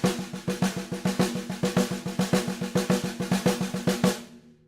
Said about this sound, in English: just on the snare drum, it'll sound like this